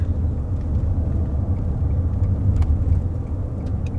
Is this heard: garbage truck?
yes